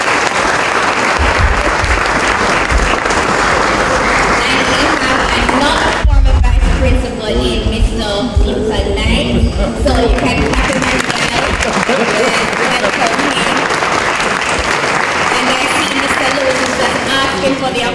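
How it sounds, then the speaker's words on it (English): A large crowd applauds loudly and steadily for the whole stretch, with a voice speaking over the clapping partway through, at a high school lecture event. "So students, just stop, just stand up and clap Mrs. Henry."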